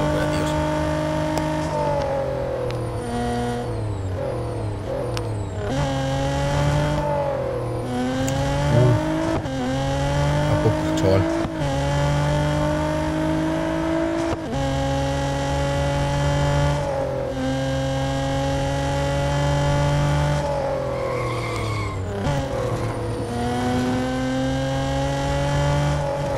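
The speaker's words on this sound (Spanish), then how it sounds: "Qué puto sonido tiene el Skyline, tío" Nissan Skyline R34 engine in the Real Racing 3 racing game, revving hard through repeated upshifts, rising pitch climbing then dropping at each gear change, loud and continuous for the whole stretch.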